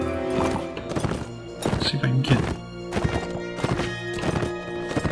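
Horses gallop in the Mount and Blade battle game, with rapid rhythmic hoof clip-clops, a whinny and thudding impacts, while someone talks over the action.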